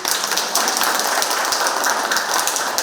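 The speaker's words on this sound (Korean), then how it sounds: "우리 박수 한번 쳐요." Audience at a Buddhist temple dharma service applauding together, a dense, steady wash of clapping hands filling the space without pause.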